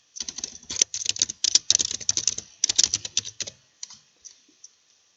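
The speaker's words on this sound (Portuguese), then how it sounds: "Dei um clique ali e começo a digitar." Fingers type on a computer keyboard in a fast, close clatter of keystrokes that thins out into a few scattered taps before stopping.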